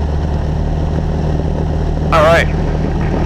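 A Cessna 172SP engine drones at a steady high pitch during the takeoff roll on a runway, loud and constant under cockpit noise, as a pilot speaks briefly.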